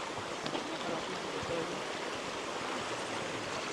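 A cold mountain stream flows in Seven Ladders Canyon, Romania, heard as a faint, even, steady rush of water with no distinct splashes or voices.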